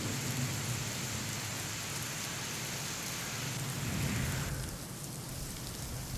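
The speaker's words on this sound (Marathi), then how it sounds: "रायगड जिल्ह्यातील काही भागात पावसानं पुन्हा एकदा बरसण्यास सुरुवात केली" Heavy rain in Raigad district, Maharashtra, a loud steady wash of downpour with a deep rumble swelling near the end like distant thunder, continuous and without voices.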